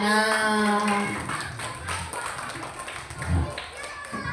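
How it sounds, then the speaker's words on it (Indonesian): An audience claps through a school Maulid celebration, with voices heard over the applause. "Tepuk tangan."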